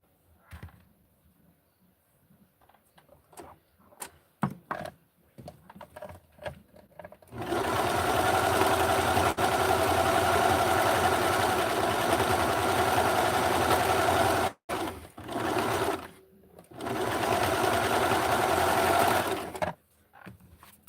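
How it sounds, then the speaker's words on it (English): Serger sewing machine stitching the side seams of a small Barbie doll dress, a loud steady mechanical whir close by that runs in two long bursts with a brief stop between them and quiet handling sounds before it starts. "I am using the serger at this moment."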